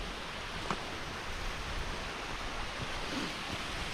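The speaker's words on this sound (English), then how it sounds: "that's quite a cool little falls that" A small waterfall on Black Mountain near Clydach gives a faint, steady wash of falling water that continues evenly throughout, with no voices.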